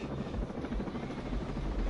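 Helicopter in a Terminator video game: a steady, loud rotor and engine drone that fills the whole short stretch without letup.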